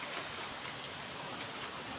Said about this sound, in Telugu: వర్షం కూడా అలాగ వచ్చేసింది సడన్గా